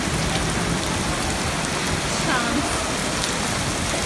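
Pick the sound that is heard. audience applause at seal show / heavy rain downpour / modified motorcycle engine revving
heavy rain downpour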